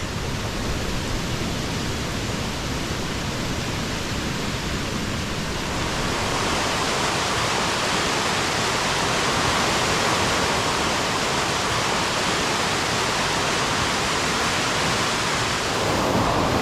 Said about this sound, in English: you can see a bridge over the stream, which is actually quite a fast-flowing river today